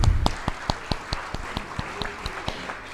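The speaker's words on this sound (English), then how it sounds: "Big clap for them." Conference audience at a business and management gathering claps for the speakers, a handful of distinct, rhythmic claps close by with sparse background clapping.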